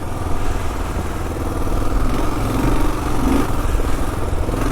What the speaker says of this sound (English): First time I've ridden the KLR on sand